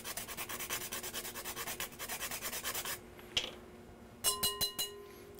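Fresh nutmeg is rasped on a grater in quick, rhythmic strokes, close and fairly quiet, followed after a pause by a few louder, separate scrapes.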